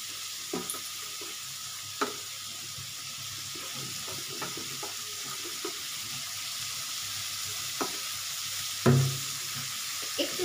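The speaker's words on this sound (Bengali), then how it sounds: "একটু চিনি দিচ্ছি যাতে ভাজাটা তাড়াতাড়ি হয়।" Steady sizzling of food frying in a pan as salt and sugar go in, with faint stirring scrapes and occasional sharper clinks over a constant hiss, close and fairly loud, no talking.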